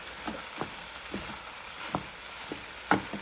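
Lobster fried rice seasoned with soy sauce is stirred in a Power XL cooker: a steady low sizzle with a handful of sharp utensil scrapes and taps spaced irregularly, close and fairly quiet.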